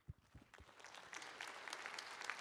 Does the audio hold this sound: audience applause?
yes